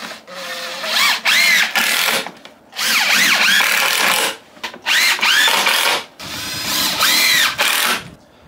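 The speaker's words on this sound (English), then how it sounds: "Screws going in fine." Screws driven into wood with a power drill while building a National bee hive base, with four loud whining bursts of driving separated by brief pauses.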